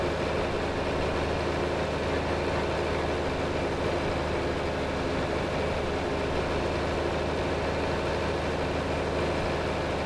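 A tractor engine idles steadily while it is refuelled in the Farming Simulator 25 video game, producing a low, constant droning rumble with no change in pitch and no voices.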